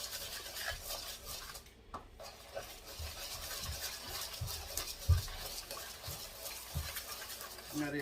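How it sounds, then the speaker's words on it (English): Cream cheese and sugar whisked by hand in a bowl: quiet, steady scraping and stirring with soft, uneven clinks of the metal whisk against the bowl throughout. "I didn't think it would be this hard to whisk it with just a whisk."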